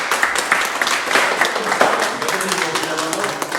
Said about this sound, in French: on applaudit ton passage